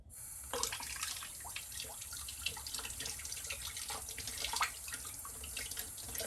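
Running water from a tap splashes over a soaped Japanese dye brush being rinsed, a steady close hiss of flowing water with small splashy bursts, no voices.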